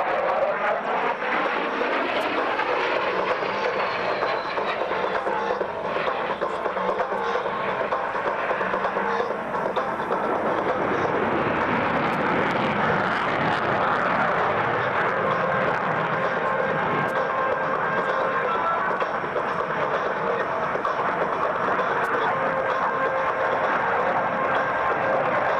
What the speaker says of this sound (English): During the turn, which will be flown in full afterburner, Frog will experience over 6 times the force